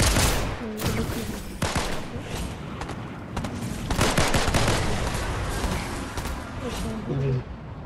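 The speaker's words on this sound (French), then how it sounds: "le PNJ m'a tiré dessus" Bursts of automatic gunfire from a non-player character in Fortnite, rapid cracking volleys and thuds in clusters across several seconds, with a person talking over them.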